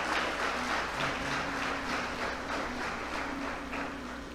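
A church congregation applauds during a sermon, a steady, even wash of many hands clapping with a faint low hum underneath, easing slightly toward the end.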